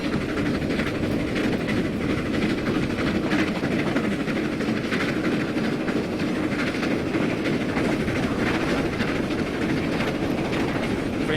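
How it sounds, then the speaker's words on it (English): A GWR Castle steam locomotive runs steadily in Train Simulator 2015 on the Riviera Line, a continuous rumbling rail roar with wheel clatter that holds an even level throughout, with no talking. "going to dance to the steam engine noise"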